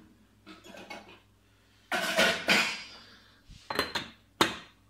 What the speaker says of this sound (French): je prends le couvercle.